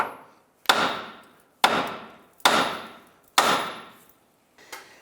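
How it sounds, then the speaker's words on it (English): A hammer strikes the steering knuckle of a 2011-2019 Ford Fiesta to pop the ball joint loose: four loud, sharp metallic blows at even intervals, each ringing briefly, then a softer fifth tap, with no talk. "We're now going to use a hammer and strike the knuckle itself to pop that ball joint out."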